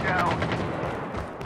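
Rapid gunfire in the COD Mobile video game, a dense burst of repeated shots filling the whole moment at close range, with game voice chat underneath.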